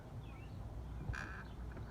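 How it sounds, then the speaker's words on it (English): A single duck-like call, short and nasal, sounds close by once in a quiet outdoor spot near a house's mailbox, with faint background hum before and after. "Y'all see this bird, right?"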